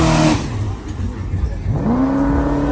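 At a rowdy car meet, a Jeep Trackhawk engine revs hard, falls back, then climbs into a rising, strained roar close by. Shouting voices run under it.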